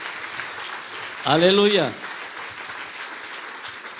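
A church congregation claps loudly for Jesus during a sermon, a continuous applause wash with a preacher's drawn-out shouted exclamation rising over it briefly.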